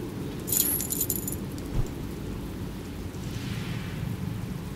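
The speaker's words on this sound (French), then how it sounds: "La tempête approche vite." Thunder and rain from an approaching storm in a video game, a faint steady rain hiss under a soft distant rumble and a couple of sharp crackles early on.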